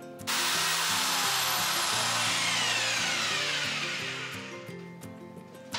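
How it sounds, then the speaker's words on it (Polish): A power drill bores through a wall for a light switch cable while a single switch is swapped for a double one, a loud, steady grinding drone close by that holds for several seconds and slowly fades near the end. "I przewiercimy się tam na wylot."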